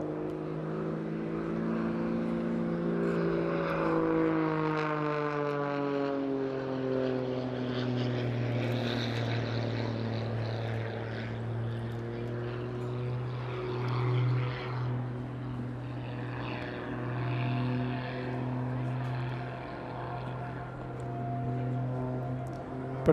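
A Pitts S-2S aerobatic biplane drones through flight with a steady propeller engine note that rises and falls in pitch as it manoeuvres, loud and continuous without voices.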